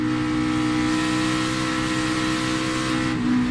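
A NASCAR stock car roars steadily at the 2016 Bank of America 500, loud and close, then the engine note sags near the end as the driver lifts off the throttle.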